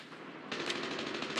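Burst of rapid automatic gunfire in Call of Duty Mobile battle royale, a quick rattling volley of shots starting abruptly and continuing at a fast even rhythm, moderately loud with no speech.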